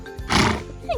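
A horse whinnies loudly in a barn at feeding time, one strong neigh rising and falling over about half a second, with a softer trailing call and faint hoof and stall noises around it.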